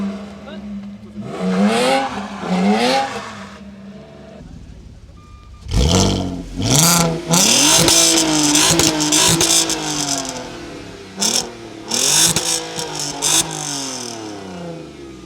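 A Porsche GT3 engine revs repeatedly, rising and falling in loud bursts with throaty mid-range growl and brief pauses between revs.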